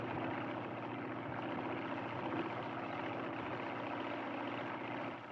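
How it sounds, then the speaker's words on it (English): A propeller airplane drones steadily overhead, a continuous broadband engine hum with low rumble that holds even and moderately distant throughout, with no speech. "Look, that airplane up there."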